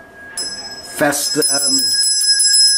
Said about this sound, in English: So everybody rings a bell, and that's why it's called arti.